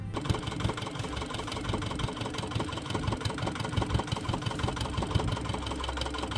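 A small boat's engine idles steadily while moving through a creek in the Sundarbans mangrove forest, a close, continuous mechanical chugging with a rapid low thumping rhythm and no voices.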